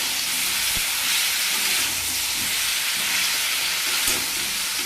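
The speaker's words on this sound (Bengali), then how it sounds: "এবার এটাকে বেশ ভালো করে কষাতে দেবো" Hilsa fish curry with bottle gourd and potato sizzles loudly in a pan while being sautéed, a steady close hiss of frying with soft stirring knocks.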